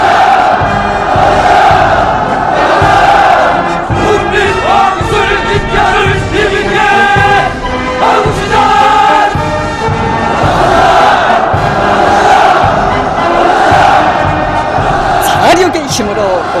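A huge crowd at a January mass rally in Pyongyang roars with cheers, a loud, dense and unbroken wall of voices that swells and holds for the whole stretch, with chant-like tones rising through it.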